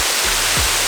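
A jungle waterfall near Ubud, Bali pours in a dense, constant roar of rushing water, loud and close, filling the space without any voices.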